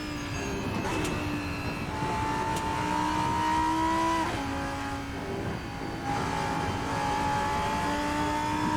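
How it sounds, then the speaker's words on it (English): A Lanzo V10 race car engine lapping Mugello in a racing sim howls loud and close, rising through the revs, briefly dropping on a gear change, then climbing again with a steady high whine. "driving this Lanzo V10 here at Mugello"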